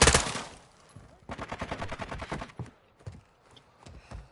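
Rapid automatic gunfire from the video game Call of Duty: Modern Warfare rattles close and loud in dense bursts, then trails off into scattered single shots.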